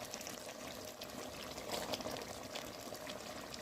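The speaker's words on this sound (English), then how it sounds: "I'm adding here about 4 cup water" Water poured steadily into a cooking pot while making one-pot chicken biryani, a continuous splashing trickle close by that runs the whole time with no speech over it.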